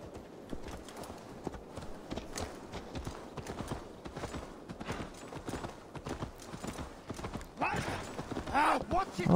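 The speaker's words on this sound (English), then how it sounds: "Horsey! Let's go!" A horse gallops in Assassin's Creed Valhalla with rapid, rhythmic clip-clop hoofbeats, loud and continuous under game sounds, and a brief whinny near the end.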